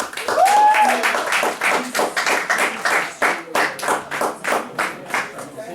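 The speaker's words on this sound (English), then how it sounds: "Can we give him a round of applause, please?" Audience applause for a spoken word performer at a poetry event, a burst of clapping that opens loud and then thins into uneven, separate claps, with a brief whistle near the start.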